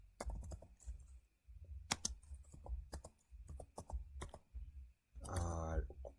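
Typing code on a computer keyboard, close and clear, with quick clusters of key clicks and short pauses, followed by a brief burst of speech near the end.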